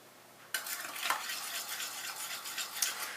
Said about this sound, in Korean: 부드럽게 계란 노른자를 풀어주시고 여기에 소금 설탕 넣겠습니다